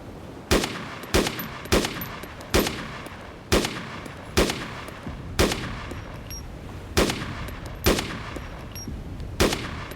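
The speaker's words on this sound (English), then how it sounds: "Now I've got a sniper, so I'm going to have to try and take this guy out with this." Sniper rifle shots ring out in Arma 2 with the DayZ mod, a dozen or so loud, cracking reports spaced at a fairly steady pace, each trailing off in a short echo, with no talking.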